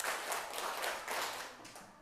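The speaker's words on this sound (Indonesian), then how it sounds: "1 kali tepuk, 2 kali tepuk, 3 kali tepuk, 4 kali tepuk, 5 kali tepuk." A group claps in a quick rhythm, a short run of sharp, evenly spaced claps heard fairly faintly and alone, without talking.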